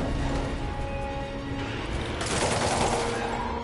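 Indiscriminate gunfire rattles through a high-speed chase in a Spider-Man video game, a continuous barrage of shots with crashing and mechanical clatter mixed in, shifting in character partway through.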